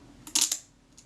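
Shutter of a Voigtländer Bessamatic M camera firing at 1/15 second: a short cluster of crisp mechanical clicks close by, with a faint softer click a moment later, in quiet surroundings.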